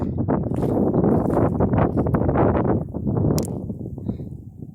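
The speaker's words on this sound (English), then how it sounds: "because it's very, very windy here." Gusty wind buffets a nearby phone microphone outdoors on the Rogue River, producing continuous low rumbling and flapping bursts for several seconds.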